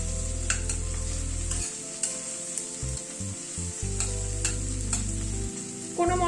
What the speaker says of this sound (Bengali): রসুনটা আগে একটু ভেজে নিচ্ছি